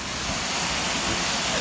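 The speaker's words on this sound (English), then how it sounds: "Massive, great big waterfall." A waterfall roars in a steady, broadband rush of falling water, loud and close, with no pauses or talk over it.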